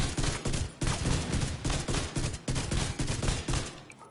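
Rapid bursts of automatic rifle fire from an exotic rifle in a shooter video game, loud and close, with repeated volleys separated by brief pauses across the clip.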